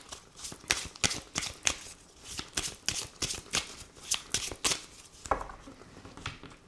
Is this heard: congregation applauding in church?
no